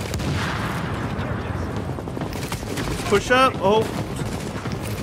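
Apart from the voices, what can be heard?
enemies shooting gunfire in video game The Division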